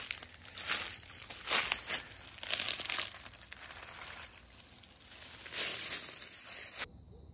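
Gorilla Tape is torn and wrapped around a ferro rod, giving close, uneven crinkling and ripping bursts, soft and intermittent, with a brief cut-off near the end.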